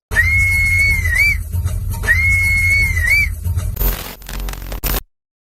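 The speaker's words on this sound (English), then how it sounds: "Did you know that the whistle sound in the Pajero chase sequence was from Vanga himself?" Two long, shrill whistled phrases, each bending up and down, ring out over a heavy low rumble, followed by a burst of harsh, crackling noise before cutting off.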